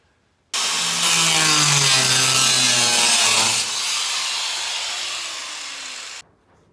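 A power tool cuts through the original sheet metal of a Series Land Rover footwell, a loud, steady grinding rasp with a shifting pitch that runs for several seconds and then stops abruptly.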